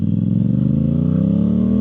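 A Yamaha YZF R7 motorcycle fitted with a Yoshimura full exhaust, untuned, idles close and loud with a deep, steady throbbing rumble that rises slightly in pitch toward the end, no voices present.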